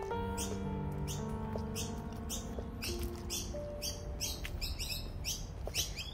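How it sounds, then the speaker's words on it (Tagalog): Many birds chirp and tweet in quick, high bursts in Adelaide Botanic Garden, South Australia, scattered and fairly close, over a low steady hum of distant traffic. "Mga huni ng ibon."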